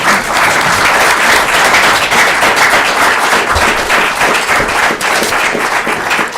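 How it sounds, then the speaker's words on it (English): Sustained, dense applause from the audience at a Republican congressional district debate in the North Country, loud and steady throughout without any talk over it. "Should we give them a round of applause?"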